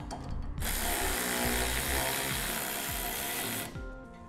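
A power tool runs steadily for about three seconds, driving two screws with a 10 mm socket while a B and W heavy-duty trailer hitch receiver is fitted to a 1986 Chevrolet; close and loud, with short clicks before and after.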